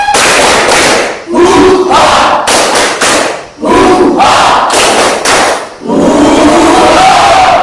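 A group shouts a loud chant in bursts, with sharp rhythmic clapping punctuating the voices close by.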